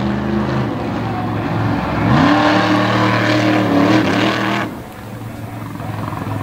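A 12,000-pound Patrick Chassis monster truck named Pretty Wicked on 66-inch tires roars at a monster truck event, its engine surging loudly for a couple of seconds, then dropping to a lower rumble.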